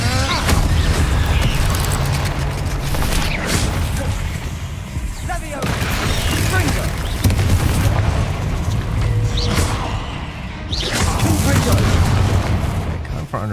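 Fiery whooshing bursts from the Incendio spell in the action game Hogwarts Legacy come in several loud surges amid ongoing combat noise, with someone talking between casts.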